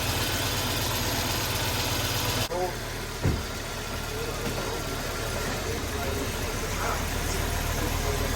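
A barn-find Audi 100 runs on old fuel, its mid-pitched engine humming steadily near the microphone, with a brief clunk partway through while people talk over it.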